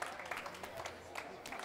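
Applause from a racquetball crowd after a point in a quarterfinal match, a faint patter of scattered clapping heard distantly under a commentator's voice.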